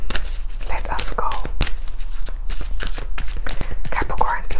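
Tarot cards are shuffled by hand close up, giving repeated papery riffles and soft slaps in an uneven rhythm, mixed with whispery breaths and faint rustling.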